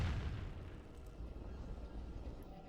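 A planetary fortress explodes in a StarCraft 2 match on the Zen map, a deep low rumbling boom that swells at the start and rolls on for a few seconds with debris-like crackle.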